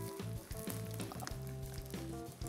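Vegan tortilla cut into small triangles sizzles steadily in a frying pan, a close, continuous crackle of hot oil with a few brief tonal clinks, no talking.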